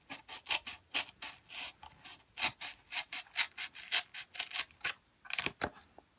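Scissors or a blade cut a small section out of a piece of cardboard, giving a quick series of scratchy, rasping snips and rubs, close and quiet, with brief pauses between strokes.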